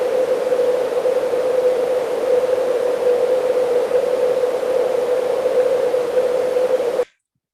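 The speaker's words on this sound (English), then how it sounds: "now you can hear that it's resonating that frequency in the white noise" White noise run through a sharply resonant filter, leaving a steady whistling ring at one pitch over a broad hiss, loud and constant throughout before cutting off abruptly near the end.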